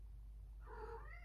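Octavia, a house cat, gives one brief, faint, drawn-out meow mid-clip over a steady low background hum, with no speech.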